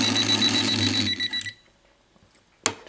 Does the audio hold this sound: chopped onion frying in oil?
no